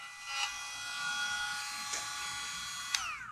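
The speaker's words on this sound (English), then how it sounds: "Trimming freshly painted parts." Steady high-pitched whine of a small power tool trimming freshly painted motorcycle front-end parts on a bagger build, holding a constant tone with a few brief bumps and a final falling pitch as it winds down.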